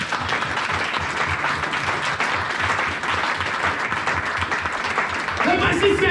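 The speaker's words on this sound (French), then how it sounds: "On acclame pour le roi des rois." Church congregation applauding during a French-language sermon, steady sustained clapping from many hands filling the room, with a voice rising over it near the end.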